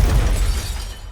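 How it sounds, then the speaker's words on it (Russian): Breaking glass effect from the Angry Birds game interface: a loud burst of shattering with dense crackling debris that fades over about a second, heard alone. "звук разбивающегося стекла"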